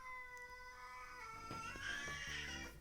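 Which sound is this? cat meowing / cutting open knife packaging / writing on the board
cat meowing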